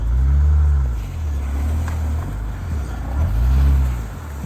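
Car engine revving hard in two loud surges, a winter beater or drift car stuck on ice and being pushed out, the revs rising and falling close by with no talk.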